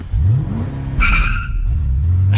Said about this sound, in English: So clutch in, first gear, full throttle.